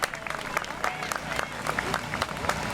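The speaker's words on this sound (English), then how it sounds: "let's give another round of applause for this amazing performance on this lovely, lovely day" Audience applause following a big band concert at an outdoor evening event in Winnequah Park, a steady crowd clapping with scattered cheers and a voice speaking over it.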